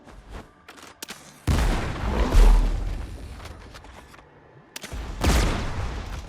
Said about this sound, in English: we're going to go ahead and shoot it until he staggers